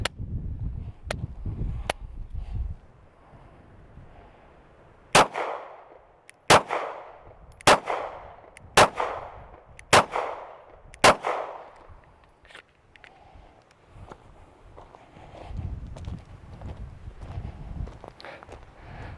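Micro Dagger 9mm pistol fired at a range, seven sharp cracks at steady intervals of about a second, each with a short echoing tail, preceded by a few quieter clicks and followed by low rustling handling noise.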